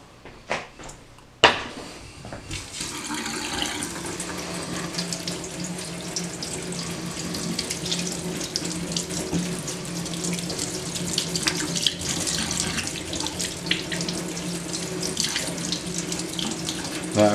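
Tap water runs steadily into a sink while rinsing burnt paint off a laser-engraved copper circuit board, a continuous close splashing stream after a few brief knocks at the start.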